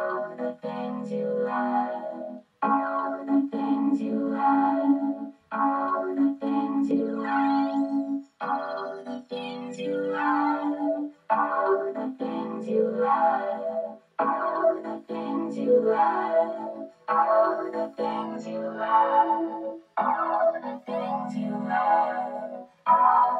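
A vocoder effect with a resonant, ringing character turns a source into choppy synthetic tones. Phrases come in short repeated bursts with brief gaps between them, close and moderately loud, with no talking.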